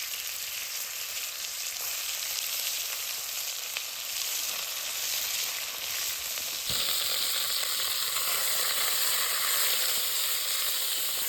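Stewing beef sizzles in hot oil in a pot during winter camping in an off-grid cabin, a steady close frying hiss that swells louder partway through.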